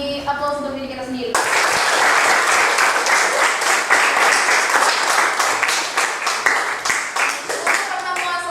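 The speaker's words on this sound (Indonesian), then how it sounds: "mari sama-sama kita memberi aplaus untuk diri kita sendiri" A classroom group gives a round of applause, a dense burst of steady clapping lasting about seven seconds that begins after a short stretch of speech, with a voice returning near the end.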